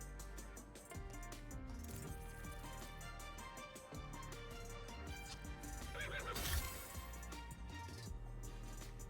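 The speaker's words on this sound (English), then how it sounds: "Why did I just hear a horse?" A horse whinnies loudly inside a video game, with a long neigh swelling mid-clip alongside hoof clip-clops and some clinking, over a dense layer of game sounds and music.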